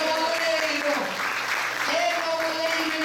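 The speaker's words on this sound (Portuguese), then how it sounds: "Dê uma salva de palmas ao Senhor." A church congregation claps during a worship service, a sustained wash of applause mixed with a held voice or music tone.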